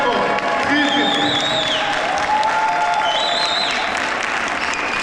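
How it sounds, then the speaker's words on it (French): Dense, sustained applause from a crowd at a Christmas event honouring firefighters. The clapping is loud and continuous, and whistling tones rise and fall above it. "On les applaudit très fort"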